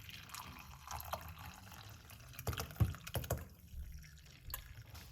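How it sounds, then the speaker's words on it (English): Tea with garlic pieces is poured into a cup, making faint trickling and dripping liquid sounds with a few louder splashes near the middle, in a quiet room without talk. "let's pour off this beautiful cup of tea"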